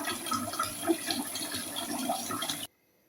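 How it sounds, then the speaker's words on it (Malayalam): Water splashes and swirls steadily as rice is washed in a kitchen, close and continuous for a few seconds before it cuts to silence. "ഞാൻ 3-4 പ്രാവശ്യം അരി ഇങ്ങനെ കഴുകിയെടുക്കാറുണ്ട്."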